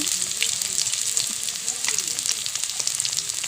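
Salted potatoes fry in oil with a continuous crackling sizzle, close and fairly loud, holding steady with small stirring pops and no speech over it.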